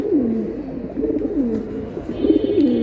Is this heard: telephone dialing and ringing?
no